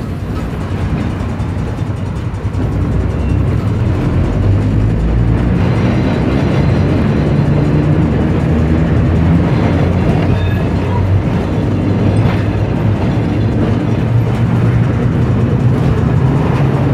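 A vintage Bendigo tram rolls along its rails, a loud continuous rumble with rattling clatter and faint wheel squeal heard from close by, no talking.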